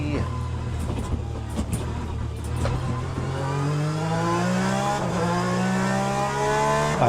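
A race car engine in Assetto Corsa Competizione climbs steadily through its revs at Zolder, a continuous rising drone with gear-like pitch steps. It plays loud and unbroken throughout.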